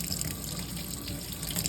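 A kitchen sink tap runs steadily, adjusted to lukewarm, giving a continuous close hiss and splash of water into the basin with no voices.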